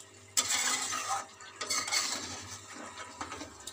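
Capsicum is stirred in a pan of chicken korma: bursts of close scraping and clattering from a spoon against the pan, separated by brief pauses, with no talking.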